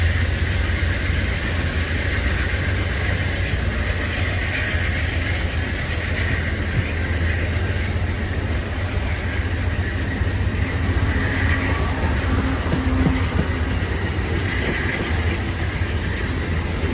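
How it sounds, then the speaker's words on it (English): Amtrak Crescent passenger train hauled by P42 locomotives departing Greenville, South Carolina, a steady loud rumble of engines and rolling wagons with faint clickety-clack continuing throughout, no voices. "And our train is off to New York City."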